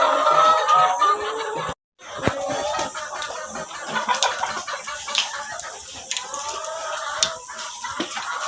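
Laying hens cluck and squawk in a poultry house in Agboville, Côte d'Ivoire, a dense, continuous chorus of overlapping calls with occasional sharper cries, close and loud, broken by one brief silent gap.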